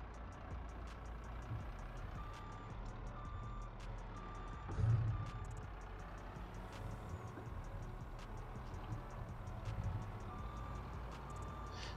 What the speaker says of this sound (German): Der eine LKW weg, kommt der nächste her.